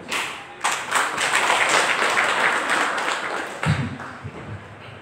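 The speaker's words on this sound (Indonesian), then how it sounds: "Tepuk tangan" Applause from an audience at a community organization meeting in Jepara, Indonesia, a dense crowd of clapping that starts after a brief pause and fills most of the clip before thinning into a few scattered claps and thuds at the end.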